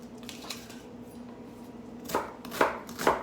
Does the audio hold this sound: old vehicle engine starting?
no